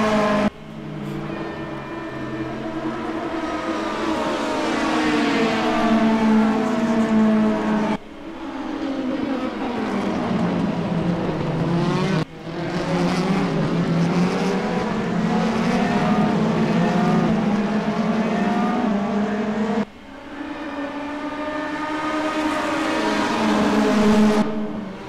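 Several race cars in a sim racing game, engines roaring continuously with rising and falling pitch as they pass and shift gears, loud and alone with brief cuts in the sound.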